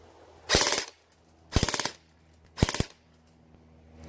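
A CSI XR5 sci-fi airsoft pistol firing full auto lets off three brief bursts about a second apart, each a fast, close, rattling string of snapping shots, with quiet gaps between.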